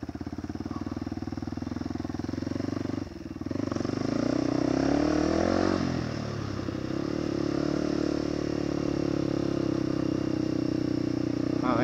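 A motorcycle engine with a carburetor runs continuously on a mountain road, a loud, steady drone that briefly dips and then pulls again with rising and falling revs.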